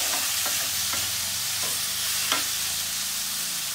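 A spoon stirs tomato masala in a pan for kala chana curry, the mixture sizzling steadily with soft scraping strokes at a loose, regular rhythm.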